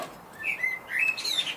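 Bird chirping in a spring garden, a series of bright, thin tweets and short whistles coming in bursts, fairly close and clear against a quiet background with no talking.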